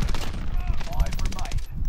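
Rapid gunfire bursts from Call of Duty Modern Warfare crackle loudly and continuously across the whole stretch, with players talking over the shooting.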